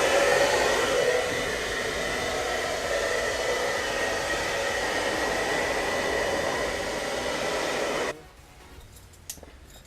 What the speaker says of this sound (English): I'm gonna get the blow dryer and heat it up.